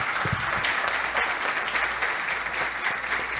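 Sustained applause from a ceremony audience honouring police station staff, a dense steady wash of many hands clapping throughout, fairly loud with no voices over it.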